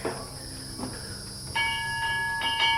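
A train idling with a steady hiss and low rumble, then a loud multi-tone horn sounds in short blasts near the end.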